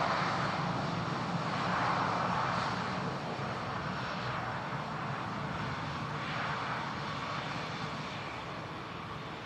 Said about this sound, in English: Got another prop coming in. Looks like another ATR.